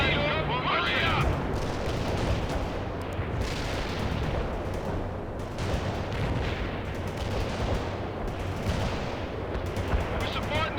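Dense, continuous gunfire and artillery blasts rumble and crackle in a World in Conflict battle, with overlapping shots and booms filling the scene while radio-style voices talk over the combat.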